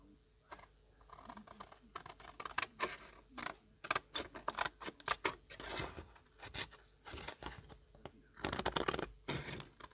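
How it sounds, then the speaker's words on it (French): Scissors cut along the edge of a patchwork fabric tag, producing a quick series of close, crisp snips and rustles of cloth, irregular in rhythm with brief pauses between bursts. "je vais venir découper, hop, tout mon bord"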